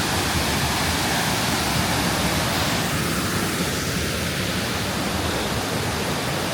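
Mae Sa Waterfall in Chiang Mai pours with a dense, steady roar of falling water that fills the scene evenly from start to finish, with no voices over it.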